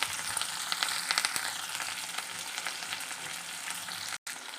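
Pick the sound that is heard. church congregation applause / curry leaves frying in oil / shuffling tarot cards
curry leaves frying in oil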